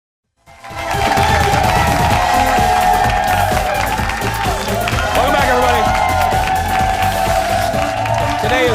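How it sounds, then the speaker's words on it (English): Studio audience on a morning television show clapping and cheering loudly, the applause rising quickly and holding steady as a dense wash of claps and whoops for several seconds. "People clap."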